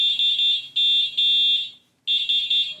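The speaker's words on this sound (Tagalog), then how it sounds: "familiar to sa inyo siguro yung tunog ng busina na to." The horn of a three-seater electric bike beeps in a piercing, high electronic tone. Several short pulses are followed by a longer held blast, then a pause and more pulses, loud and close.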